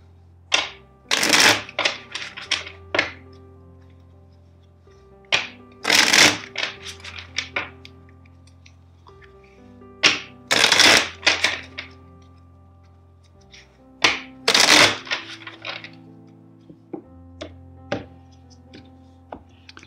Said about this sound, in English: First, let's shuffle four times.